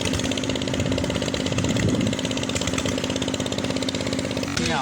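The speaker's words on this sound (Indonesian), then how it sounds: "Mesin penggiling." A grinding machine's engine runs steadily with a dense, buzzing mechanical drone, close and loud, continuing throughout with a brief change in tone near the end.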